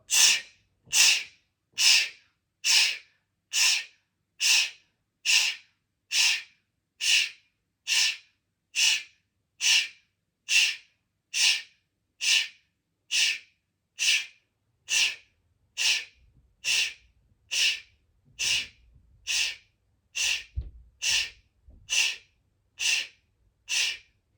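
Rhythmic breathing exercise of forceful inhales and open-mouth exhales, about two dozen sharp, close breath bursts in a fast, steady rhythm, with faint low thumps toward the end.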